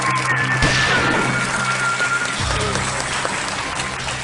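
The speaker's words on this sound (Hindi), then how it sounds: "आइए तालियों के साथ अभिजीत जी का स्वागत किया जाए" A studio audience claps steadily to welcome a new contestant, Abhijeet, onto a game show; dense, loud applause runs throughout and eases slightly toward the end.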